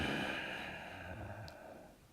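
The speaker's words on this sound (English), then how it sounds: "I'm breathing now a little more in the chest. I'll exaggerate so you can hear." Exaggerated chest breathing with a subtle growl: a slow, breathy exhale with a rough, low, muscular edge, close and quiet, fading gradually with a faint click near the end.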